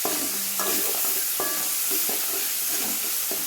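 Five dried red chillies and two garlic cloves frying in a pan for a drumstick-leaf chutney, a steady close sizzle with occasional stirring clinks and no talking.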